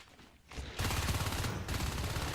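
Gunfire in the video game Natural Selection 2: a loud, rapid burst of automatic fire that starts abruptly and keeps going in a dense rattle.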